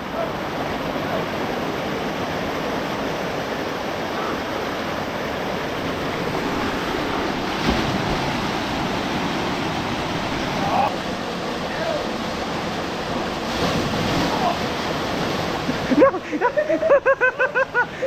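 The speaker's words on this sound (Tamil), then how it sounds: "இதான் சருகு ஃபால்ஸ்" Rushing water of Pepper Falls, a waterfall in Kodaikanal, runs as a steady broadband roar for most of the clip, with some wind buffeting and a few louder splashes toward the end.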